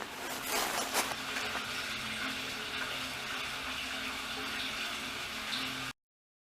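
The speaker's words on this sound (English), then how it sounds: "there's plenty of water in here because I can hear it." Water running inside a spring along a hollow in Shenandoah National Park, a steady, faint gurgling wash that continues unbroken for several seconds before cutting off.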